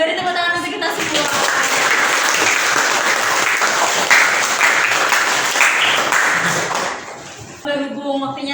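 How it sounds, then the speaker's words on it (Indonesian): Sustained audience applause in an Indonesian teacher-training (PPG) session, dense clapping for about seven seconds before fading, with speech audible at the start and end. "beri tepuk tangan untuk kita semua"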